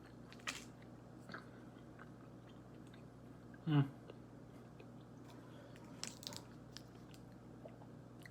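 Quiet, close chewing on a chewy fruit candy from a French snack box, with soft wet mastication and one louder bite midway.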